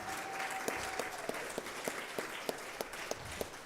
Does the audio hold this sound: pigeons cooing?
no